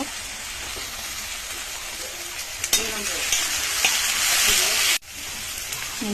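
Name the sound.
ginger garlic paste added to frying onions in pan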